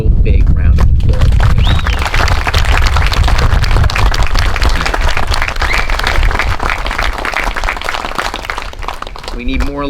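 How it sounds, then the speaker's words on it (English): Loud, dense applause from a crowd at an outdoor Memorial Day ceremony, sustained throughout with wind rumble and voices mixed in underneath. "this guy deserves a real big round of applause"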